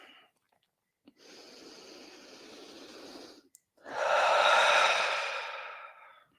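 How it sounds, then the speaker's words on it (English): Deep yoga breaths, one long steady inhale then a louder, fuller exhale after a short pause, close and alone with no talk. "A couple of deep breaths here."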